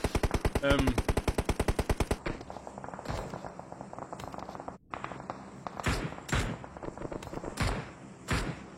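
Rapid automatic gunfire in a battle royale video game, a fast even burst of machine-gun shots for about two seconds, followed by scattered single shots and bursts at varying distances.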